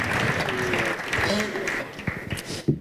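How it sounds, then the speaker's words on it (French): Audience at an architecture awards ceremony applauding the winning engineering firm, a dense burst of clapping that thins out toward the end while a voice talks over it and a few final claps trail off. "Vous pouvez les applaudir"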